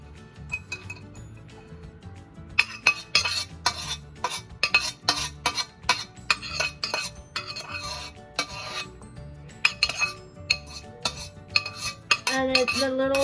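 Cooked noodles stirred into a cheese sauce with a splash of milk for homemade mac and cheese, making repeated close metallic clinks and wet rasping scrapes of a utensil against a pot in an uneven rhythm, no talk.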